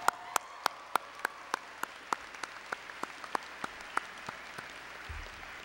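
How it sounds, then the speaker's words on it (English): Graduation audience at the Wylie High School 2011 ceremony giving a short burst of clapping: about twenty sharp, evenly spaced claps standing out over a soft crowd hum, fairly distant and moderately loud, no talking. "because y'all clapped"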